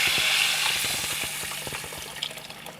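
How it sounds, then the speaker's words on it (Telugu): Tamarind juice is poured into a hot tempering for brinjal pulusu, giving a close watery rush and sizzle that fades gradually over a couple of seconds, with light clinks near the end. "ఇప్పుడు మనం పిసికి పెట్టుకున్న చారుని ఇలా పోసుకోవాలి"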